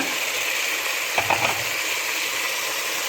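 Onion, tomato and green chili sautéing in a pan for a spicy beef gravy, a steady hissing sizzle throughout with a brief stirring clatter in the middle, close and with no talk.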